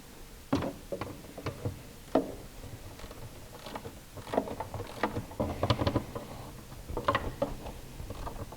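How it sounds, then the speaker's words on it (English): A 5/16 socket on a 1/4 inch drive ratchet with a short extension turns a voltage regulator bolt on a 1967 Cougar, giving scattered quiet clicks and metallic taps in short bursts, close by. "we use a 5/16 socket, 1/4 inch drive, a little bit of an extension."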